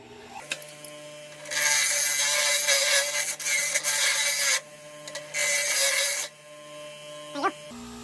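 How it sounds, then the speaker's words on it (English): Angle grinder disc cleaning steel down to bare metal before welding, with two loud bursts of harsh grinding separated by a brief pause and quieter mechanical handling before and after. "we're just going to use the disc on the grinder here just to clean this up to some bare steel"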